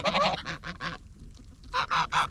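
Geese or ducks honk nearby in quick bursts of several calls, a short pause, then another run of loud honks.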